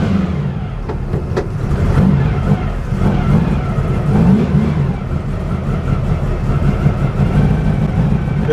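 A vehicle pulls away as its engine accelerates, a loud steady rumble and drone filling the whole stretch with a low, close-up roar.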